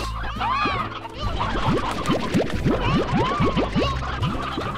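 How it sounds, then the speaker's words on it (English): Hens cluck in the video game Slime Rancher, a busy string of short rising chirps and clucks layered over game background sounds, close and continuous. "those hen hens are gonna drive me nuts."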